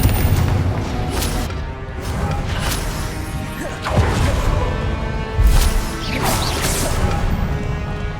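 Confringo blasting spells explode in the video game Hogwarts Legacy amid a spell-casting fight, loud booms, crashes and whooshes landing in quick succession over a continuous dense battle noise.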